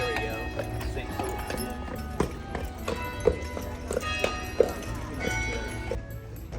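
Horse hooves clopping on a street in Charleston beside a pink church, a soft irregular series of clicks over a faint steady hum and background murmur.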